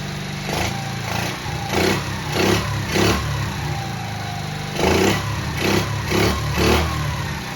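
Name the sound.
50cc Kazuma Firehawk Chinese quad engine running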